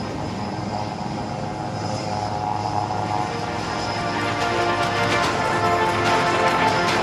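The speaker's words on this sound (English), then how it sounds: "And now coming in for the high-speed run along the dais, this aircraft is now running at 900 kmph." Sukhoi Su-30MKI fighter jet roaring through a high-speed aerobatic pass at an air show, a loud, steady broadband engine rush that swells slightly as the aircraft nears, with no talk.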